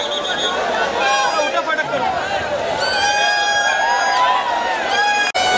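A crowd packs onto a stage at a public devotional music event, making dense, continuous chatter broken by shouts and whoops, loud and close.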